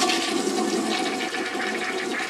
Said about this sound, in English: make sure the toilet flush is good